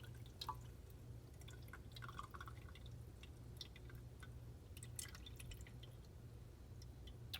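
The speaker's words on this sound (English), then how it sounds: "So this is called a can strainer, and you can just pour it through there." Pineapple juice draining through a metal can strainer, a quiet steady stream of small drips and trickles with faint splashes, close by and continuous, with no talking.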